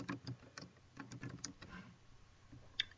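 Typing on a computer keyboard: a quiet, uneven run of soft key clicks up close, thinning out toward the end, with no voice.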